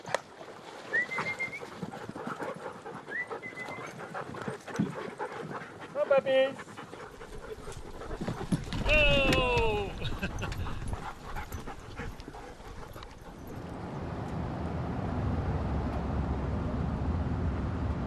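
Sled dogs by the Yukon River panting and whimpering close by, with a steady breathy rhythm and short whines, under a voice talking and outdoor background noise.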